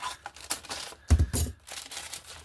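Scissors cut paper or card for a journal, sounding as a close run of crisp snips and crinkles with a louder cluster of cuts near the middle, no voices present.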